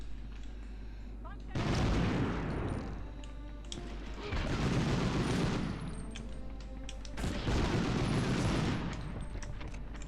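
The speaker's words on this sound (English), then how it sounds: "Getting shot in the face with a BAR from point blank range must hurt" BAR automatic rifle fire in the Medal of Honor game, three loud sustained bursts of rapid gunfire separated by short pauses, with a voice talking over them.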